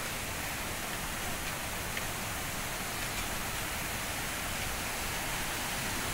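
Tuasan Falls pours in a constant, even wash of falling water, dense and unbroken from start to finish with no voices.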